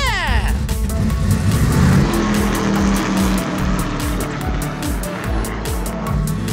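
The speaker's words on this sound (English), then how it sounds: "now it's time to get this race car on the track" A doorless race car drives on a bumpy track, its engine revving in rapid rhythmic pulses close by, with excited voices talking over the noise.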